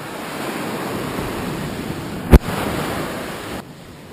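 Waves wash steadily onto a small private beach, a continuous broad surf roar with wind buffeting the microphone and one sharp knock partway through.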